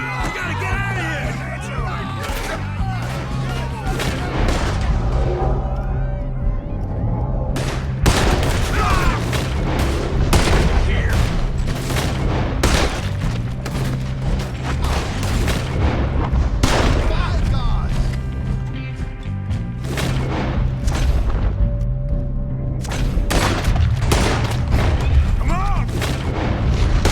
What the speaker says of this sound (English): There he is! Shoot that man!